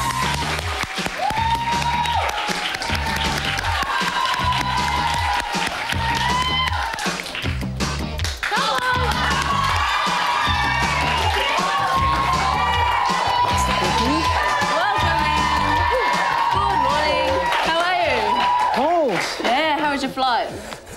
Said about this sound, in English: let's give a clap to Iain Anderson.